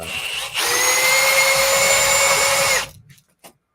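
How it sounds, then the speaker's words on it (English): A Milwaukee power tool backs a lag bolt out of a clamping workstation: a loud, steady, high motor whine that runs for about two seconds, then cuts off, followed by a faint click. "the Milwaukee has no trouble taking it out"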